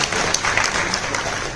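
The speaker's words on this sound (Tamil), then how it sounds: "கைத்தட்டலாம்." An audience claps throughout at a Tamil film event honoring director K.S. Ravikumar, a dense, steady burst of applause.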